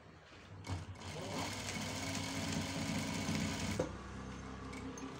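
A sewing machine stitches a back neck design on a blouse with a steady, close mechanical whir. It runs continuously for a few seconds, then stops abruptly, leaving quieter room sound.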